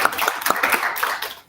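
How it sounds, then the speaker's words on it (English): An audience claps to welcome speaker Beatrice Onions, founder of YPNZ: a short burst of brisk, fairly close hand claps, uneven and thinning toward the end. "let's give Beatrice a warm welcome and applause"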